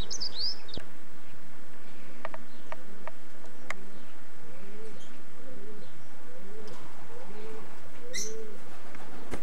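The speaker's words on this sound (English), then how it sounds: "He's a Staf Van Reet cock, and he was sent to the race sitting 12 days" A Staf Van Reet racing pigeon cock coos in soft, repeated low murmurs, close by in a loft, with a few faint chirps and clicks around it.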